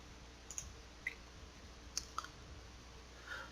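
Several sharp, isolated computer mouse clicks spaced irregularly over a quiet room background, each brief and fairly faint, during an Excel spreadsheet lesson.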